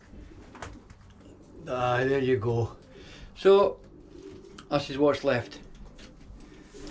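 Racing pigeons cooing in a loft, soft repeated throaty coos close by, heard in short bursts under and between a man's speech.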